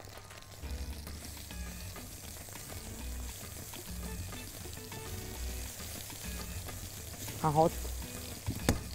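Garlic sizzles steadily in a pan of oil, a soft continuous frying hiss with occasional stirring clinks and a brief scrape near the end.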